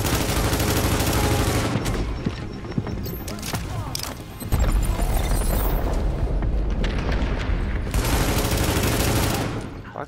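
Heavy gunfire and booming shots from snipers in The Division shooter game, dense volleys running through most of the clip and briefly easing midway before loud firing returns.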